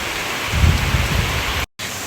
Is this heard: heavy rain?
yes